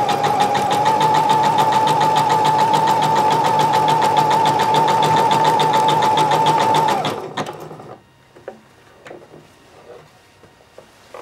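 A sewing machine stitches fabric for a pair of shorts, running in a loud, steady rapid whir for about seven seconds before stopping, followed by faint clicks and fabric handling.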